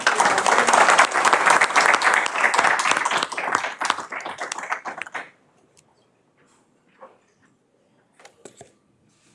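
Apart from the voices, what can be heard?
round of applause at committee meeting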